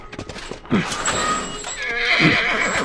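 A horse in The Last of Us video game gives loud, close neighs and whinnies mixed with snorts and clip-clopping hooves, the calls rising and falling across the moment.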